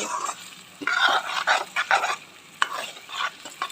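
Steady sizzling of broiler chicken frying in a pan, with bursts of scraping as it's stirred repeatedly, close and fairly loud.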